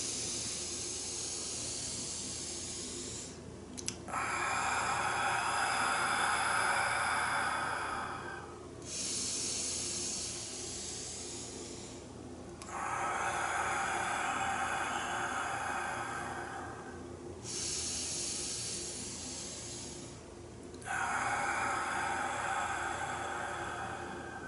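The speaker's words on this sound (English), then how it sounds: "we'll do 3 full yogic breaths in one fluid motion" Slow, deep yogic breathing: three full breaths drawn in and let out in long airy waves, each several seconds, close and alone in a quiet room.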